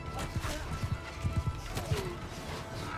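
Hooves of a Blackwood horse in Mount & Blade II: Bannerlord, an uneven run of galloping clip-clops thudding close by over a steady game background, with a brief whinny near the end.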